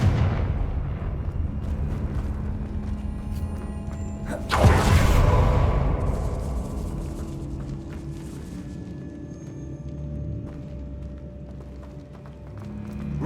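A Confringo blasting spell explodes in the Hogwarts Legacy video game, one loud burst about five seconds in over a steady rumbling game soundscape with clopping movement.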